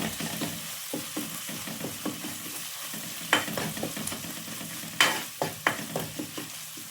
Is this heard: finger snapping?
no